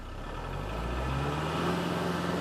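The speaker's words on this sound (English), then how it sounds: "See my engine RPMs go up and down, and they'll vary." A Kubota tractor engine with an HST Plus transmission hums nearby in a steady drone, its pitch rising gradually as the revs climb.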